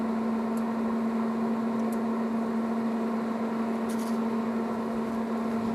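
A Traeger PTG portable pellet grill's blower fan starting up, a steady close whirring hum with a strong constant drone, running evenly throughout with no talk.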